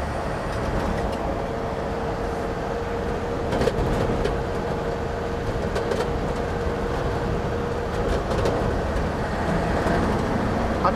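A 1949 GMC pickup truck with bias ply tires running on the road, a steady engine drone with road roar and scattered rattles, close and continuous with no talk.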